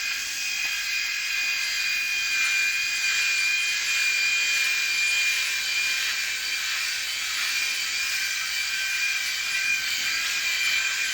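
A cheap 6D electric shaver runs steadily as it shaves a head, giving a close, continuous high-pitched buzz with a faint scratchy texture and no talking.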